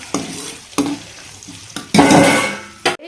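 Brinjal curry ingredients frying in a pan on a stove, a steady low sizzle broken by several sharp scrapes and clanks of a spoon stirring against the pan, with one longer scraping stir near the end.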